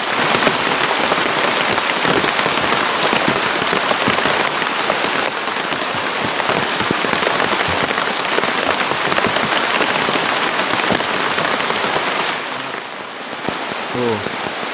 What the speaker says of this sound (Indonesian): hujan deras banget tuh.